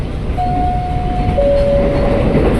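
A KRL INKA IE 203 commuter train, a 12-car set, rolls into Depok Baru station with a steady rumble of wheels on rails and a long high brake squeal that lingers and shifts pitch, heard from inside the car.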